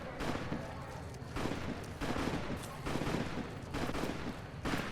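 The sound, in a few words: gunshots in the video game Fallout New Vegas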